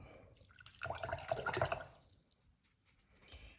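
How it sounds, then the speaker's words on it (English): A paintbrush is swished briefly in a container of water while painting acrylic clouds: a short, close splashing and trickling burst, then faint drips, with no talking. "Wash my brush out ever so slightly."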